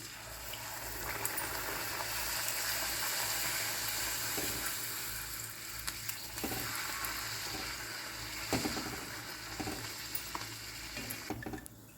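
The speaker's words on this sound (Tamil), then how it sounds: "இப்போ நம்ம பூரி பொரிச்சிடலாம்." Steady, loud sizzling and bubbling of puri deep-frying in hot oil, with occasional clinks and stirring sounds.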